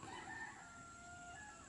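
A backyard rooster crows faintly in the distance with a drawn-out, wavering call over low ambient background noise. No one speaks.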